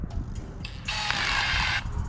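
The chuck of a PUMA PM-280BL brushless cordless drill, tightened by hand, gives a short burst of rapid mechanical ratchet clicks, close and fairly loud, lasting under a second.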